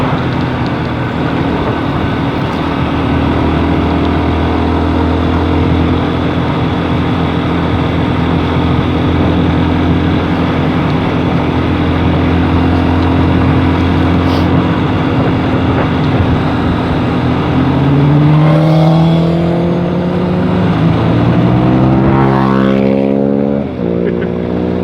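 Motorcycle engines, including a Lexmoto Isca on a New Forest ride out, drone steadily up close under heavy wind rush, then rise in pitch through several gear changes near the end.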